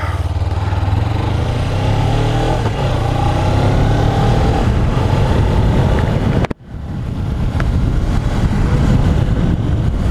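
A Suzuki GSX250R motorcycle drones steadily while being ridden, its engine hum blended with heavy wind buffeting the microphone, with a brief dip in the noise partway through before the steady roar resumes.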